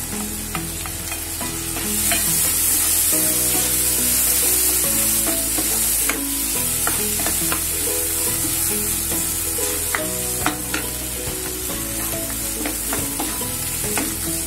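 Tomato added to a sizzling pan while cooking a sprouted field bean curry: loud, continuous frying sizzle with repeated spatula scrapes and clanks of stirring, close up and without speech.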